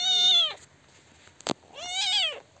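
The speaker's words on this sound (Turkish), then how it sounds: "Ne güzel kedisin sen böyle." A village cat in Gümüşalan, Erbaa, near her kitten, gives two clear, drawn-out meows close by, with a quiet pause between them and no talking.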